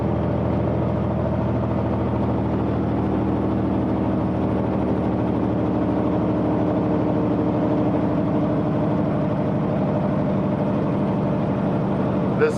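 Steady, droning truck engine running under engine braking with the cooling fan on, heard from inside the cab as a continuous low rumble on a downhill grade in snow country.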